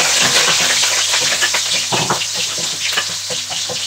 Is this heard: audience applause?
no